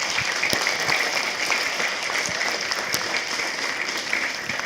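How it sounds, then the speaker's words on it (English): Steady applause from an audience at a school STEM showcase, a dense even wash of many hands clapping throughout, fairly loud and continuous with no talk over it. "Let's give them a big round of applause"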